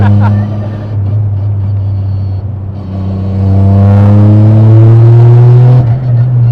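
A Toyota GR Yaris with a sequential gearbox being driven, its engine a loud, close, steady drone that rises in pitch as it revs higher through the latter half, then drops briefly near the end.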